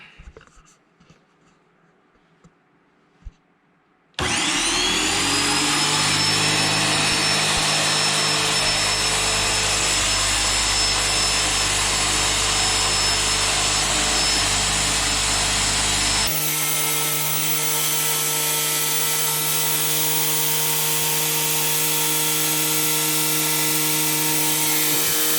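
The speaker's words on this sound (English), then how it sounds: "Turn power on, and then allow fluid to flow up the suction tube and out of drain tube for 30 to 60 seconds." A Graco Magnum X5 paint sprayer starts up after a few seconds of quiet handling noises and runs with a loud, steady motor drone while priming fluid, its tone dropping and settling partway through.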